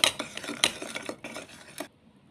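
Salad greens being tossed with salt and olive oil in a bowl, giving a run of close, crisp clinking and scraping stirs that stop abruptly near the end.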